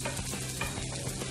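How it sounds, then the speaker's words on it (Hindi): Cooked sabudana khichdi is stirred in a pan with a continuous, close scraping and soft sizzling rustle, with no voices. "हमारी साबूदाना खिचड़ी बन चुकी है, थोड़ा इसे हिला लेती हूँ।"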